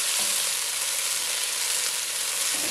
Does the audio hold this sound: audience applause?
no